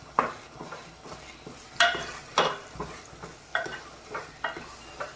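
A spoon scrapes and stirs in a pan of cooking food with garlic chutney just added, a soft sizzle underneath and about ten sharp scraping strokes at an uneven, unhurried rhythm, close and alone.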